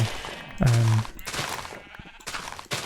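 Sheep in the video game Minecraft let out a single loud, wavering bleat near the start, followed by faint in-game ambience and light clicking sounds.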